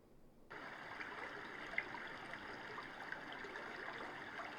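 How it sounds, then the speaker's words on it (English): A water-stream ambient recording played through a JBL Pulse 5 speaker: steady rushing water, a continuous broadband wash with small gurgles and splashes throughout, no voices. "And then this last one is a water stream."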